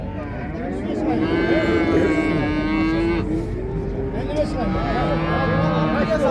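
A cow moos loudly and at length at the Çorum cattle market, its drawn-out lowing close by, while people talk and haggle around it in the busy livestock yard.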